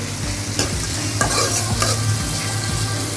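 Onions sautéing in a kadai for chicken gravy, a steady close sizzle with repeated scraping stirs of the spatula against the pan and no talking.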